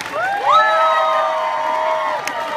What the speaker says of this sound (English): Stand up, face the audience, and listen to that crowd.